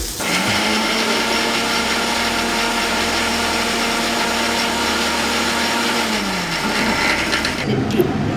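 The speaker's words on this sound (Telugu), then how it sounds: "Now I'm going to grind it, make it into a paste." A mixer grinder grinding ingredients into a paste runs with a loud, steady motor whine for about six seconds, then winds down and stops.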